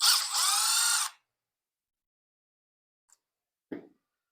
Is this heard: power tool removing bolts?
yes